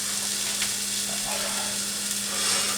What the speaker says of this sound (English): I'm going to mix this up about 30 seconds.